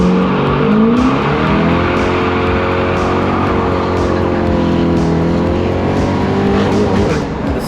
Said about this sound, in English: So you could do some nice burnouts with this thing.